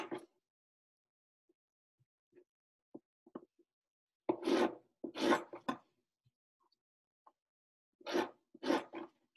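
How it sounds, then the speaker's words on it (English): A knife chops mango pieces on a cutting board, giving a few soft taps early on, then two close bursts of quick rasping strokes, each a cluster of three or four cuts, with quiet gaps between. "We're just gonna cut them into little strips. And then we'll chop it all together."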